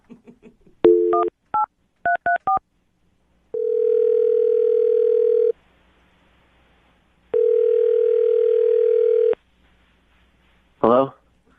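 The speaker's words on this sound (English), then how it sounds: "I'm going to dial his phone number right now and see if we can get him on the phone" A telephone line ahead of a call: short bursts of touch-tone dialing beeps, then two long steady ringback tones separated by a pause, and a brief garbled burst as the line connects at the end.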